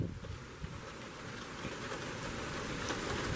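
Steady rain pouring down during a summer severe thunderstorm, a soft continuous hiss of drops on surfaces with some wind, fairly faint and even throughout.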